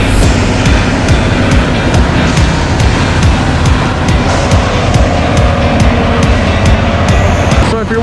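A concrete mixer truck with its drum full of concrete turning runs a loud, steady diesel roar and heavy rumble at close range on a job site with a concrete pump.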